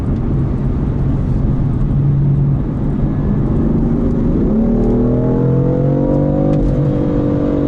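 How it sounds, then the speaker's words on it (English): A car engine revs hard in Sport Plus mode and climbs steadily in pitch, holding high RPMs with a loud, aggressive whine and roar close by. "You can hear it holds the RPMs out."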